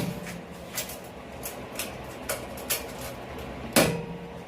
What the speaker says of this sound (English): And folds up like that and latches.